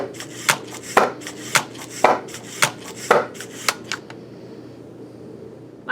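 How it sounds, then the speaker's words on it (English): A LEGO EV3 robot chopping a banana with a knife gives about eight sharp, evenly spaced chops at close range, ending in a quiet mechanical hum. "My banana chopping robot is pretty basic."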